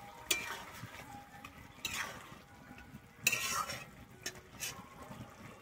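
Chopped coriander stirred into a tarai fish curry in a pan, soft spoon scrapes and clinks against the pan over a faint simmering sizzle, with a few sharper strokes spaced apart.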